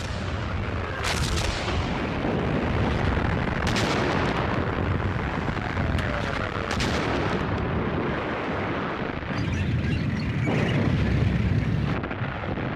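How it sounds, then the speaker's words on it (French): Heavy artillery fire roars continuously, dense booming blasts overlapping into a loud, sustained battlefield rumble. "Les canons allemands écrasent les positions ennemies."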